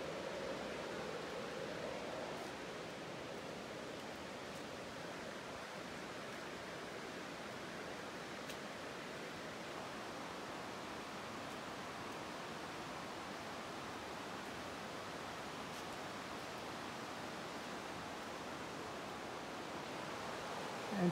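A river flows far below the narrow trail bridge over Ken Lockwood Gorge, giving a steady, even rush of water that holds at the same level throughout with no voices.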